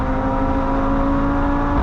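A 2.5-litre Volkswagen Passat RS engine runs flat out on the Nürburgring as a steady, loud in-car drone with a constant whining tone and no gear changes.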